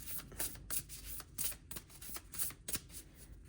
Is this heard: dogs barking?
no